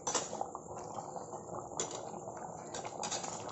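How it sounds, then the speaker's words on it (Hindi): Mutton pieces frying in a pot of yogurt-based stew over a medium flame give a steady, fairly quiet sizzle with soft crackles and bubbling throughout, with no voices. "हम गोश्त को थोड़ी देर भुनने देते हैं"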